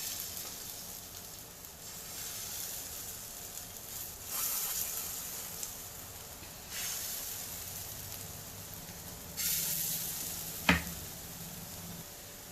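Small Sindhi spinach tikkis dropped into hot oil in a non-stick pan, sizzling steadily and softly with a few brief louder bursts of spitting as pieces are added and moved.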